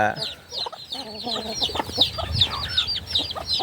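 Several chickens cluck and chatter close by in a continuous, busy stream of short calls, with some low background noise.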